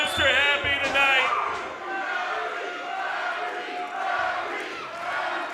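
A wrestling event crowd roars and shouts continuously in an arena, loud and sustained with swelling peaks of cheering and whistles, while a voice talks over it.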